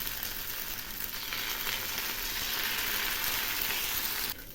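Mango patishapta batter sizzles in an oiled pan, a loud, steady hiss of frying that continues throughout and drops off abruptly near the end, with no talk.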